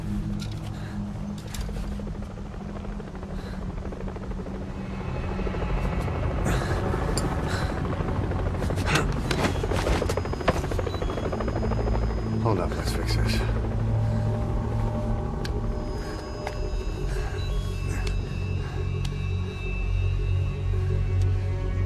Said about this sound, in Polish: bo tutaj ten śmigłowiec już będzie leciał